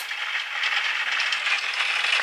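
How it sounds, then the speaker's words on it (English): Rain on a roof from a sleep sound app, a continuous soft patter of many tiny overlapping drops with faint rattling ticks, steady and fairly quiet throughout. "Rain on a roof."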